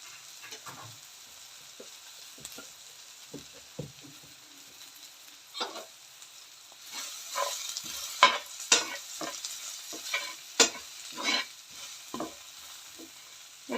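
Turmeric and chili powder fry in a pan with a faint low sizzle while a spoon stirs, scraping and tapping against the metal in scattered strokes that grow busier toward the end.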